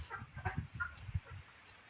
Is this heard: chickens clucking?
yes